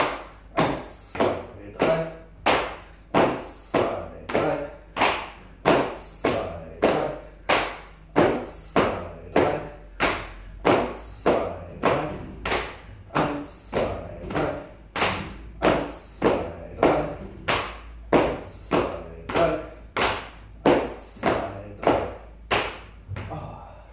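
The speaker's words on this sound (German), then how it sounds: "und auf den Po klopfen" Rhythmic tapping on the buttocks during a Nei Yang Gong self-massage, a long run of evenly spaced, fairly loud slapping thuds at about one per second, continuing steadily without pause.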